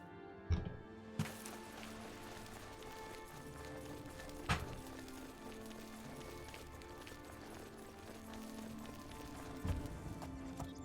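Faint, sparse hoof clops of an Imperial Legion horse in the video game Oblivion sound at irregular intervals over a quiet, steady background.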